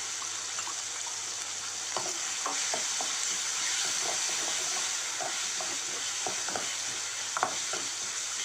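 Ground coconut-onion masala paste sizzles in a pan over sautéed onions for a Tamil fish curry, a steady close frying hiss with frequent scraping stirs and spatula taps, no talk.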